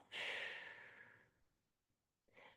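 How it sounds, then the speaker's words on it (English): A slow, deep breath during a yoga flow: a long, airy exhale that fades out over about a second, a near-silent pause, then the start of another breath through the nose, close and soft. "Inhale and exhale."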